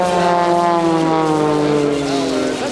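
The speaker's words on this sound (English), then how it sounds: "here he comes, Holland MX2, diving in at 300 miles per hour, rolling at 500 degrees per second" A carbon fiber MX2 aerobatic airplane with a 385 horsepower engine dives overhead at high speed, its propeller drone loud and steady with harmonic tones sliding in pitch as it passes.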